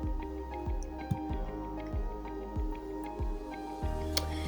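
Onion and tomato sauce are stirred in hot oil in a pot while cooking Nigerian jollof rice. Soft, evenly spaced taps and light sizzling sound quietly and close by.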